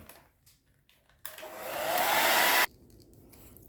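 A heat gun blows hot air over vinyl wrap on interior car trim, a single rising whoosh lasting about a second and a half before cutting off sharply.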